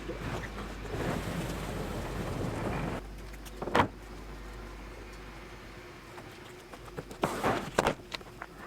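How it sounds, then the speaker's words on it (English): A loaded truck backs up on a farm, its engine a steady low rumble under broad noise that drops back after a few seconds, with a few short knocks and rattles near the end. "So we're gonna back this truck up here."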